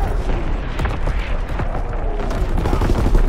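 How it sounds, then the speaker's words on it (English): Enemy artillery barrage in a war video game, with dense, continuous booms and gunfire-like cracks rolling through a few seconds of loud battle noise. "Incoming enemy artillery! Get to cover!"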